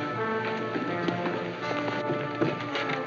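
Horses' hooves clip-clop in a steady irregular patter on hard ground, close and fairly loud over a thick background of noise and music from an old western film.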